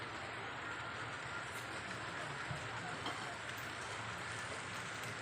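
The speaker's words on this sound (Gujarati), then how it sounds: "વરસાદ તો આવવાય મંડ્યો" Steady, soft rain falls continuously as an even hiss of drops, with no breaks.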